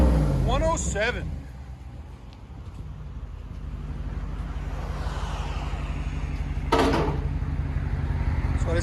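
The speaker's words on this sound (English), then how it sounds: "That's what it sounds like with a muffler delete" Deep, loud exhaust rumble from a 2017 Ram 1500 pickup with a 5.7L V8 and muffler delete, idling steadily and close, with a short rev swell near the end and voices talking briefly at the start.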